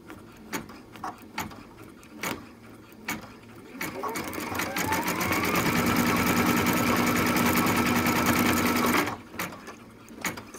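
An embroidery machine stitching a zombie kitty design in black thread: a few isolated clicks, then a steady, loud, fast mechanical whir for several seconds before it stops and the clicks return.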